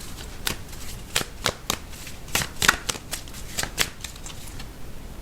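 An oracle card deck is shuffled by hand close up, producing a series of crisp riffling bursts at irregular intervals with soft handling noise between them and no talking.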